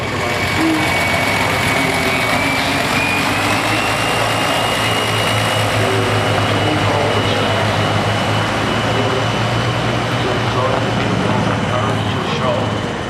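An old International Harvester 816 tractor runs at a Red Power Round Up show, its engine a steady, loud, unbroken drone, with people talking over it.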